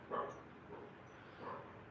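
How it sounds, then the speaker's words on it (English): A dog barks twice at a short distance, one bark near the start and another about a second and a half later, faint against a steady room hum in a flintknapping workshop. "And there Marshall is barking"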